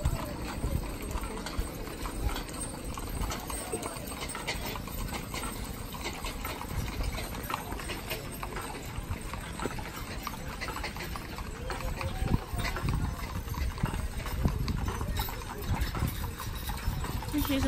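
Horses' hooves clip-clopping on pavement at a Mule Day parade in Winfield, Alabama, a steady stream of distant hoofbeats under outdoor crowd noise, with people talking nearby.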